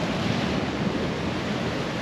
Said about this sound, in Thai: โอ้โหคลื่นโคตรแรงเลย